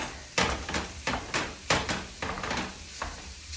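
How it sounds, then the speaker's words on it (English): A mix and chop utensil scrapes and jabs at ground chorizo cooking in a pan, about eight sharp strokes in uneven rhythm over a soft sizzle, close and clear with no talking. "this mix and chop is like perfect for breaking this up into little crumbles"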